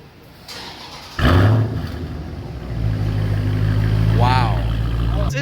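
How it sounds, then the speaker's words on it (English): A 2019 Dodge Challenger Scat Pack Widebody with a mid-muffler delete cranks and fires with a sudden loud roar, settles briefly, then swells into a deep, rumbling idle. A voice speaks briefly over it. "first start, mid-muffler delete"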